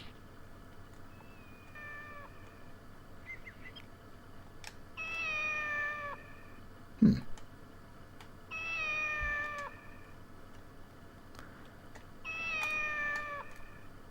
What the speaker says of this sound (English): There's a cat somewhere being noisy.